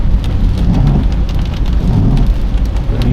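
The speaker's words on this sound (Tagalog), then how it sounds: "ang lakas ng ulan guys" Heavy rain pounds down during a drive in a 2018 Toyota Wigo G automatic on a road to Regina Rica, Tanay, Rizal, a loud dense steady roar with low rumbling underneath and no talking.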